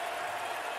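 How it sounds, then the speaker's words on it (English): Home fans in an NCAA basketball video game, Western Kentucky at Rice, roar in a steady, dense crowd wash that fills the whole moment without a break. "the home fans are going crazy"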